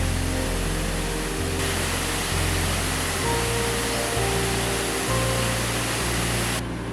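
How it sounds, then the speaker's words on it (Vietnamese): Steady broadband rush of waterfalls beside a mountain road near Tà Xùa in northern Vietnam, continuous and loud with a low rumbling undertone and no voices. "Ngay trên đường đi thôi, tụi mình đã bắt gặp rất nhiều các thác nước rồi."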